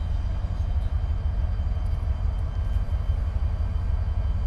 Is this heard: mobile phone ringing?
no